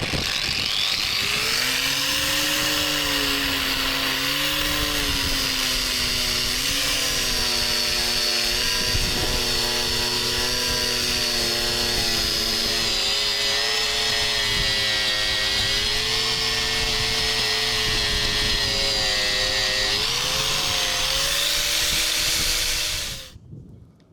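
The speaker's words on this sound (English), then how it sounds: "So what I've done is I've ground it till that rusty ring disappeared." Power grinder wearing rust and corrosion off a surface ahead of epoxy priming, a loud, close, continuous whine with shifting pitch as pressure varies, running for over twenty seconds before spinning down.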